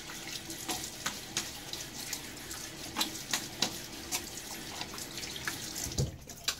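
A faucet runs steadily while a Gillette Fat Boy safety razor is rinsed under the tap, with splashing and light taps of the razor against the sink over the flow, close and moderately loud.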